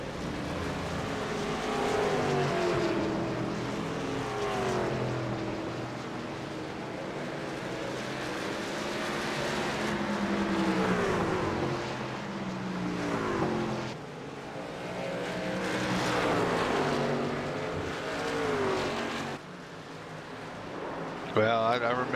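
Racing trucks in the FTSR Truck Series roar around the road course at Canadian Tire Motorsports Park, engines rising and falling as they run side by side through the corners, with commentators talking over the continuous engine noise.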